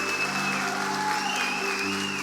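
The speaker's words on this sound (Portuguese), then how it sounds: "Se é para Jesus, aplauda bem forte." Church congregation applauding loudly and continuously, a dense steady wash of clapping from many hands, with sustained keyboard tones underneath.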